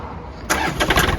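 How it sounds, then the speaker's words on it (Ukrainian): A Yanmar tractor diesel engine cranks and catches after a short quiet stretch, settling into a steady, rough running rumble close by. "Давайте заведемо От і послухаємо роботу двигуна в цьому тракторі."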